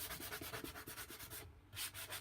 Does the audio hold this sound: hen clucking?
no